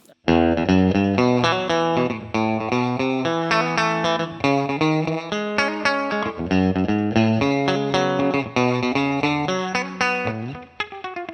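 An electric guitar strums chords and short riffs through a NuX reverb pedal, the notes ringing out with a washy reverb tail.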